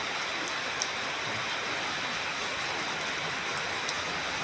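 Weakening rain keeps up a steady broadband patter, with an occasional faint tap rising briefly above the even wash of sound.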